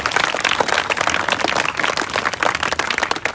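An audience claps together in a lively burst of many hands, uneven and close, continuing at full strength without speech over it.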